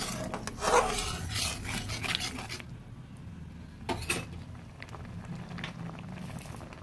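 Salt and a little turmeric powder being stirred into a pan of cooked lentils for a pumpkin-leaf dish, giving a steady close scraping and rubbing with a brief louder clatter, no voices.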